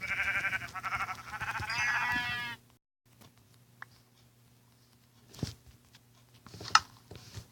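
Two sheep bleats up close in Minecraft Pocket Edition, loud and wavering, as the sheep is punched to death, followed by near silence with a few faint clicks and taps.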